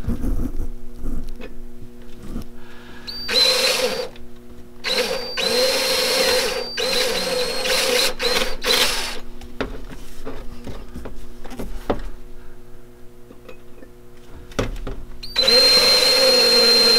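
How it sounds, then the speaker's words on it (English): A power drill with a 7/64 inch bit drills a pilot hole while installing power poles, whirring in several short bursts of rising and falling speed, loud and close, with brief pauses and handling clatter between runs. "I'm gonna start out with a 7/64 inch drill bit"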